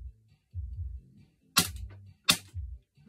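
A G&G Piranha MK-1 Silver airsoft gun test firing outdoors, two sharp snapping shots a moment apart between muffled low bumps and handling sounds.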